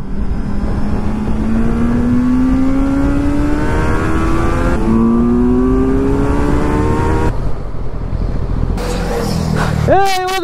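A Kawasaki Z900 superbike ridden in sports mode, recorded up close: the engine note climbs steadily, drops at a gear change, then climbs again before tapering off, with wind rushing throughout.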